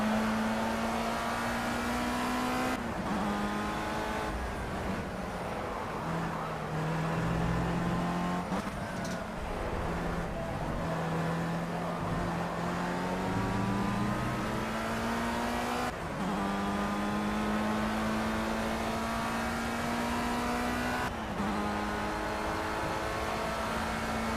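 A Formula Rookie race car engine in the racing video game Project CARS drones loudly and continuously, its pitch rising through each gear and dropping sharply at every upshift, with occasional lifts and re-accelerations as the car laps a circuit.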